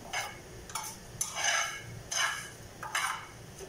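Food browning in hot cooking oil sizzles steadily, broken by repeated scraping bursts as it is stirred or lifted out of the pan, with no talking.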